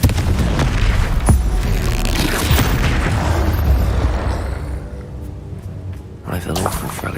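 A Confringo fire spell explodes in the Hogwarts Legacy video game, a loud booming blast with rumbling low end and bursting crackle that fades over several seconds, mixed with ongoing combat noise.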